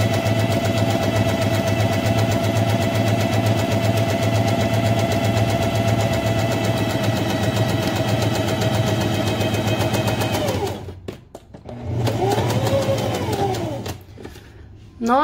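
A sewing machine runs steadily as it stitches a straight seam along the fabric edge under the presser foot, a continuous close whirring for about ten seconds, then stopping and briefly restarting.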